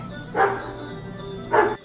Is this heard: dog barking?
yes